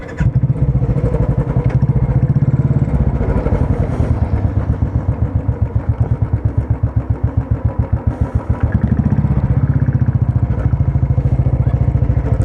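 Motorcycle engine running steadily at close range, a loud continuous throbbing idle with rapid regular firing pulses and slight clatter, no voices over it.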